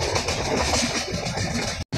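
A train runs past Karkheli railway station on the Mudkhed–Basar line without stopping, a short burst of steady rumbling wheel noise close by, cutting out briefly at the end.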